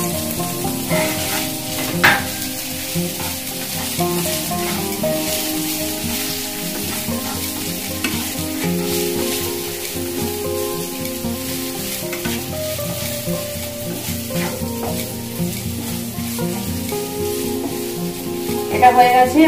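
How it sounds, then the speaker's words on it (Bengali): Potato and paneer frying in a pan sizzle loudly and steadily for a long stretch, with frequent stirring scrapes and clinks of a utensil against the pan running through the hiss. "আলু পনির ভাজা হয়ে গেছে"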